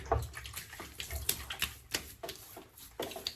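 Water runs and splashes in quick, uneven bursts as hands wet the face before a wet shave, with close, brief splashes and short pauses between them.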